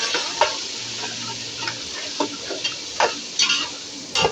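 Onions, tomatoes, ginger-garlic paste and spices cook in a pan for a mutton and chicken curry, giving a soft steady sizzle broken by scattered stirring scrapes and taps, close and moderately loud.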